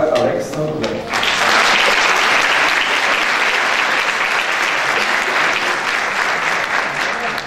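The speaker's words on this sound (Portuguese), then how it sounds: "Vamos dar uma salva de palmas para Alexandre Gomes." Loud, steady audience applause for a presenter at a talk on persuasive learning environments, rising after a brief quiet moment and holding as a thick wash of clapping to the end.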